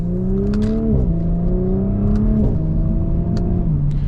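A Stage 2 tuned Audi S4 exhaust heard from outside, loud and close, with steady revving that rises and drops in pitch across several throttle blips, with no talking.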